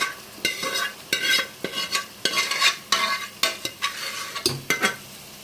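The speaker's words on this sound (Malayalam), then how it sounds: "ഇനി ഈ ചട്ടിയിലോട്ട് തന്നെ ഈ അരപ്പ് ഇതിലോട്ട് ഒഴിച്ച് നല്ലപോലെ ഒന്ന് തിളപ്പിച്ച് കുറുകിയെടുക്കണം" Masala paste bubbles in a pan with fried duck pieces for a Kuttanad-style duck curry, stirred in quick rhythmic scraping strokes over a sizzle, close and loud, with no talking.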